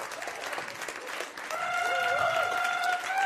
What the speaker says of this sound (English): Can we please give them a round of applause for making it this far?